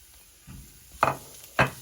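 Dates being stirred in a frying pan for a Kerala unnakaya banana snack, a soft scrape followed by two sharper spoon-against-pan scuffs, close and brief with no talk.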